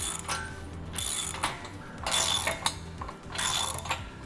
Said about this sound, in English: So we'll be tightening the bottom brackets first, and then the uprights.